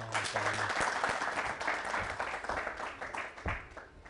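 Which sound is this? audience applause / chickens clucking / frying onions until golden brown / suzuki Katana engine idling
audience applause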